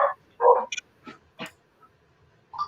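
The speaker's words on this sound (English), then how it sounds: "it's just somebody outside. My dogs are being a little bit defensive." Dogs bark defensively at someone outside a house, giving several sharp, separate barks and yips with short pauses between them, fairly close and loud.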